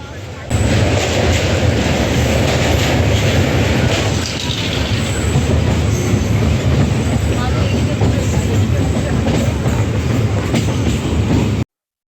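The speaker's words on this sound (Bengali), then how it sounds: "আমাদের ট্রেন চলে যাচ্ছে।" Passenger train rolling over the bridge across the Ganges between Bandel and Naihati, a loud, steady rumble and rattle of the carriages close by, continuous for about eleven seconds with faint voices beneath.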